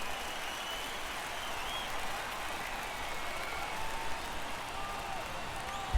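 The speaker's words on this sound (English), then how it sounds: "Miami crowd here loud" A broad, steady roar of a Miami stadium crowd in the baseball video game MLB The Show 22, constant and distant-sounding with no distinct voices standing out.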